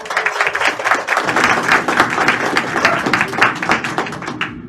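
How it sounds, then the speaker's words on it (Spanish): An audience at a podcast authors' talk claps in a lively round of applause, close and fairly loud, sustained for several seconds before thinning out. "Un aplauso también para Olivia."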